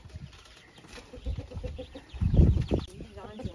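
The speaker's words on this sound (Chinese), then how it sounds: "这帮鸡就过来吃来了" Farmyard chickens cluck in short, soft bursts close by as they come in to feed on vegetables in a rural garden, with people talking over them.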